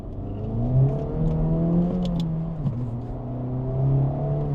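A 2025 Acura Integra Type S with a small 320-horsepower engine accelerates hard from inside the cabin, its engine note rising steadily, dipping briefly at a gear change, then climbing again, loud and continuous.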